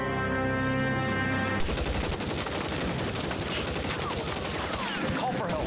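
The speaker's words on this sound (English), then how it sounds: "He's got a Tommy gun." Rapid bursts of Tommy gun fire in the 1940s Los Angeles crime game L.A. Noire, loud and continuous after a sudden start, with other game sounds layered beneath.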